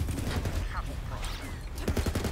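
An AK rifle fires in rapid bursts in the video game Borderlands, dense and loud, set against game sound effects and a voice talking over it.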